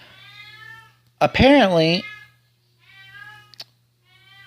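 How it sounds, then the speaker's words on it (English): A cat in an anime scene gives one loud, close, bending meow in the middle, with quieter talk before and after it. "sorry for the cat."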